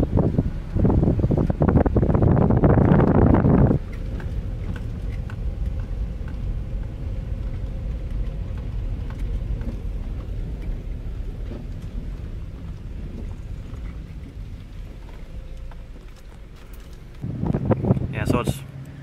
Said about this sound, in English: Pretty damn windy out here right now.